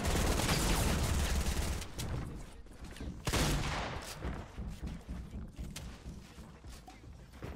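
Rapid gunfire in a duo-squads shooter video game, with dense overlapping shots over the first few seconds, then scattered bursts and a sharp burst near the middle that fade under lingering game noise.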